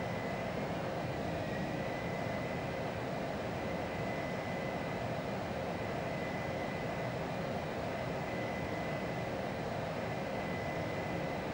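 Fighter jet landing in the Ace Combat 04 video game: a steady, loud broadband engine roar with a faint high whine runs unbroken throughout, with no voices.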